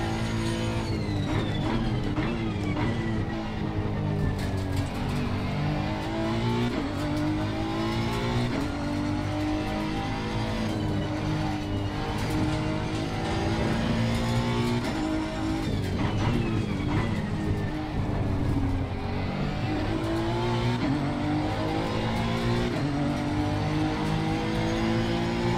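A Honda NSX EVO GT3 race car engine in Assetto Corsa Competizione at Kyalami screams continuously through upshifts and downshifts, revs sweeping up and down with steady loud drone for the whole stretch, no talking.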